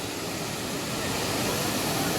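Manthoka waterfall's rushing water roars as a dense, steady broadband hiss, close and constant with no breaks.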